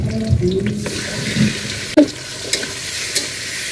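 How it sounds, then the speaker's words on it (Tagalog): Chicken breast for lomi sautéing in a pan, a loud close sizzle and frying hiss with stirring scrapes and an occasional clank of the utensil against the pan. "At haluin lang natin hanggang sa magisa ang ating sahog na breast, chicken breast."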